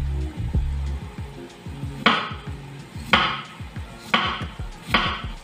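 Thin slices of potato cut by hand with a knife on a board, a steady series of sharp knocks about once a second, close and clear with no talking.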